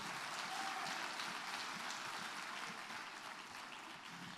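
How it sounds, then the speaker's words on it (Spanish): Sustained applause from a church congregation, a dense even clatter of clapping that continues throughout and fades slightly toward the end. "Dale un fuerte aplauso al Señor."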